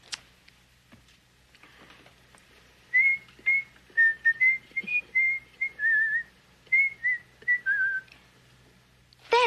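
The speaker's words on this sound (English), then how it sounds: "It was somebody whistling it." Someone whistles a short melody in a quiet room, clear bright notes in phrases with brief pauses between them.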